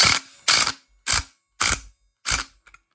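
Five short, evenly spaced metallic bursts of a tool cranking down the center bolt on a Yamaha YZ125 two-stroke clutch basket, close and loud with brief silences between.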